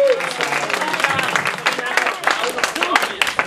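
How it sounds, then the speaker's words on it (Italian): Audience applause at a press conference for the 2011 Palio dei Mezzadri, a dense, steady wash of clapping lasting a few seconds, with voices mixed in. "facessi un applauso"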